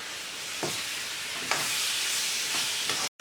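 Chopped tomatoes sautéing into browned masala for a Kuttanadan duck roast, a steady close sizzle and hiss with a few soft stirring scrapes, no talking.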